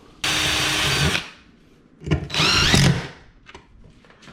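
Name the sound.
power drill drilling pilot hole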